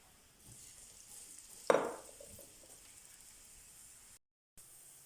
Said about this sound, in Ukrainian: Жаримо 5 хвилин на середньому вогні.